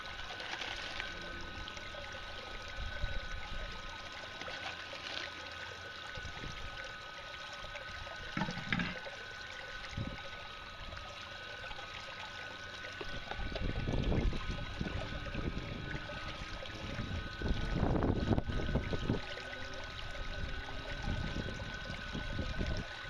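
Strong water rushes steadily through a gold sluice fitted with a 10-inch silicone mat, a continuous close churning flow with surging splashes that grow louder in the second half, no talking.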